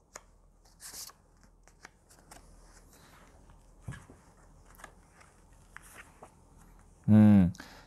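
Tarot cards rustle and slide as extra cards are drawn from the deck during a fortune reading, soft scattered flicks and taps, ending in a loud close riffle shuffle near the end; someone speaks.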